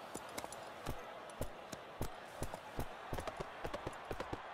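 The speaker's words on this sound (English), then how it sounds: "The horses are on the track." Galloping horse hooves pound a racetrack in the Gallop Racer 2003 racing game during a World Cup race, a steady stream of rapid clip-clop beats over a constant crowd-like background with no talk.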